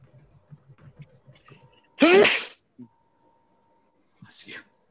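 A single sharp sneeze bursts out after soft murmuring, followed a couple of seconds later by a brief second vocal burst.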